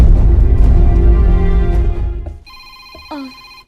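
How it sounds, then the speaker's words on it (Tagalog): A cellphone ringtone chimes as a bright, repeating tonal melody, starting after a loud, dense stretch of music and noise that fades out as the ringing takes over. "Imong cellphone, niring."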